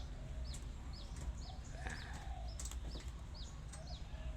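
A rooster crows repeatedly amid clucking fowl and some wing flapping, a close, steady run of calls with no voices over it.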